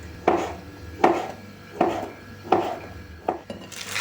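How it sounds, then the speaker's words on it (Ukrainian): A knife slices crab sticks into rounds on a cutting board, five crisp chopping taps spaced evenly about a second apart, close and clear with no talk. "150 грам крабових палочок нарізаємо кружочки."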